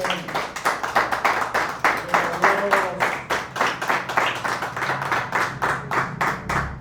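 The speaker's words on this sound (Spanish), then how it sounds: "Le damos un aplauso al Señor de alabanza" Congregation at a Spanish-language church worship service claps steadily and rhythmically in unison, a sustained round of loud, regular hand claps lasting several seconds with a faint voice briefly underneath.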